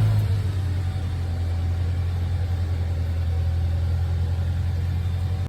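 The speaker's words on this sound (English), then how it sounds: "if you have a newer Toyota, go ahead and start it" A Toyota Tacoma engine runs at a steady, loud idle close by, a constant low rumble with no talking, apparently just after starting during a checkup.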